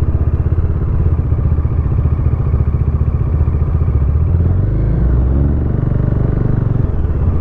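A Modenas Dominar 400 motorcycle engine rumbles close and loud while riding, a steady throbbing pulse with slight shifts in pitch as the throttle changes.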